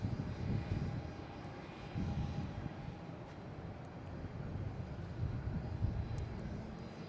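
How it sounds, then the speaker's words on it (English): A JetBlue airliner passes at Boston Logan International Airport, a low, steady engine roar with some wind rumble, moderately distant and without talk. "let's get this plane here while it's going by"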